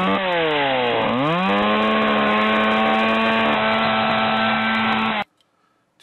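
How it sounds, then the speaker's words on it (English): A Blackwing 205 pencil turning in a Kum long point sharpener gives a loud, steady grinding whir with a slowly shifting pitch, running alone for about five seconds before stopping abruptly. "To do the honors, I'll just use the Cume long point sharpener."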